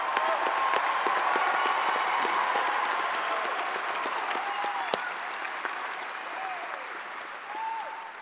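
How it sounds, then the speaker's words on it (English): University commencement audience bursts into applause, a broad hall full of clapping that starts loud and gradually tapers, with a few whoops and cheers rising above it. "help me roar and give great applause when your student's name is called out"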